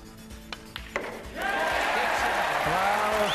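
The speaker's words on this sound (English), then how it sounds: "the cheer goes up" Crowd at the 1991 Masters snooker final between Stephen Hendry and Mike Hallett: a few sharp ball clicks, then sustained loud applause and cheering from the arena audience.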